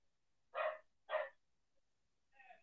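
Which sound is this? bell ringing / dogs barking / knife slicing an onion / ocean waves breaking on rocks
dogs barking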